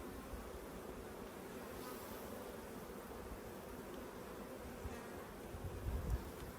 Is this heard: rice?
no